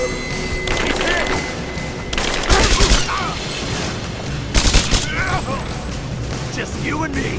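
Gunfire in Rise of the Tomb Raider during a fight in a valley, sustained rattling shots with two louder blasts of heavy fire, shouted voices breaking in between.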